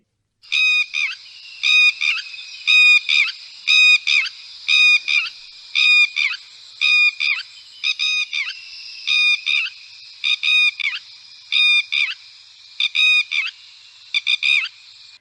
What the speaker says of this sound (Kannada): ಖಂಡಿತವಾಗಿ ಈ ಪಕ್ಷಿಯ ಹೆಸರು ತೇನೆ ಹಕ್ಕಿ